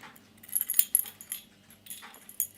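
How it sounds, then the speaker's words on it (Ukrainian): A small key is fitted into the keyhole of a Weison DX 26 alarm padlock, giving faint metallic scrapes, clicks and jingles up close, in brief irregular bursts with quiet between them. "Перше, що приходить на думку, це вставити ключ в замочну скважину."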